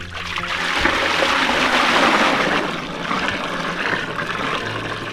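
Water poured steadily into a bowl while preparing Odisha-style dahi vada, a continuous close splashing gush that swells and then eases slightly.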